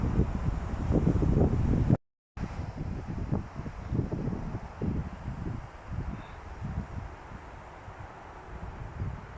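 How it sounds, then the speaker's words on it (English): Gusty wind buffets the microphone in Sutton Manor Woodland, a steady low roar with rustling, cut by a brief dropout near the start, and no talk over it. "It's a shame it's so windy"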